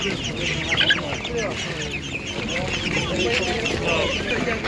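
Chickens of a meat-and-egg breed cluck at an outdoor animal market, busy overlapping clucks and squawks close by, mixed with crowd noise and people talking nearby.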